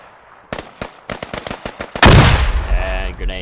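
Video game battle with a string of sharp, separate gunshots, followed by one loud, booming grenade explosion that rumbles and fades away.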